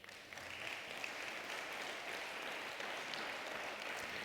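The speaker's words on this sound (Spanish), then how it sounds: "Un aplauso a él." A church congregation clapping together, a dense even roar of applause heard from within the hall, steady and sustained throughout.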